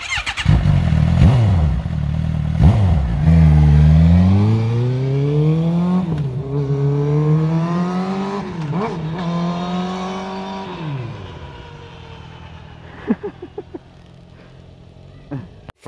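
A Lexus car accelerating hard along canyon roads, its loud, close engine climbing in pitch through several gear changes before easing off and trailing into quieter road noise.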